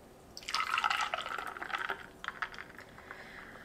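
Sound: espresso poured over ice and vanilla syrup

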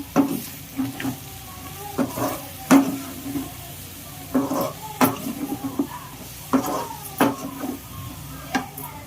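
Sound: stirring prawn curry with coriander in a pan

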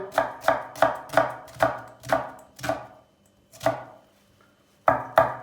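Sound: chopping onions with a knife

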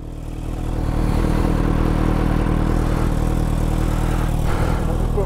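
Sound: Kawasaki Ninja H2 motorcycle engine starting

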